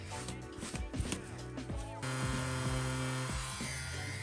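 A Stigma Rotary Force XL rotary tattoo machine runs with a steady electric hum and buzz, close up, under some background sound with no clear talking.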